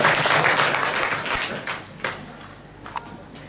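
Audience clapping at a creative evening event, a dense burst of applause that starts loud and thins out over a few seconds, leaving a few scattered late claps.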